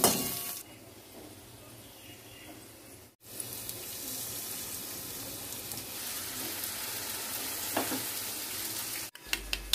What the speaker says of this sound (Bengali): চলো এই ফোড়নটা দিয়ে দিয়েছি